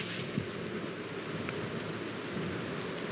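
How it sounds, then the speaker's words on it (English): Steady rain falls continuously, a dense, even hiss of drops on surfaces with no pauses and no voices. "I just came in to get away from the rain."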